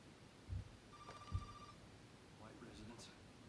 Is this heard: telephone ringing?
yes